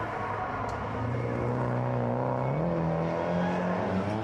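A Nissan R32 sedan drifting, its RB25 engine from an R33 fitted with an HKS 2540 turbo and an R33 5-speed gearbox, holding a steady loud drone whose pitch climbs midway as it revs, with no talking.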